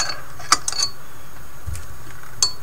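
A ratchet loosens bolts on a car engine, giving a few sharp close metallic clicks and clinks spread across a quiet background with a brief low thump in between.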